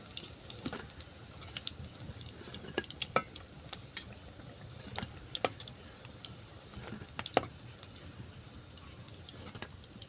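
Cabbage pakoras frying in hot oil in a home kitchen, a quiet continuous sizzle with scattered sharp pops and spoon taps, close but faint, no talking.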